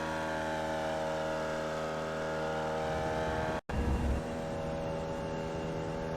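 A Formula Vee race car in the iRacing sim at Laguna Seca screams at high revs, a steady buzzing engine drone broken by a quick gearshift cut, then pulling hard again, loud and close with no voices.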